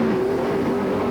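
Ontario Outlaw super late model race cars at Flamboro Speedway, engines roaring loud and close with a steady sustained drone, no pause across the short stretch.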